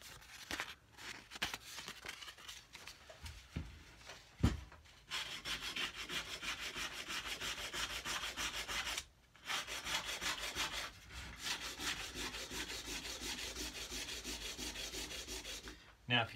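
Long, steady strokes of sandpaper worked by hand over a wooden cigar box guitar neck, a close, continuous rasping rub broken by a few short pauses and knocks.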